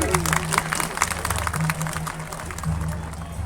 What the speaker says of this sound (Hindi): जोरदार तालियों से हम उन लोगों का स्वागत करेंगे